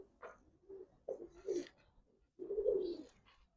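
Nazra Kaldam pigeons coo softly and close by, several low, throaty rolling calls in short bursts separated by brief pauses, with no talk over them.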